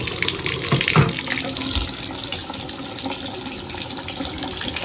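Water runs steadily from a bathtub tap and drains through an overflow trip lever drain, a continuous hissing wash with a louder splash near the start and no talking.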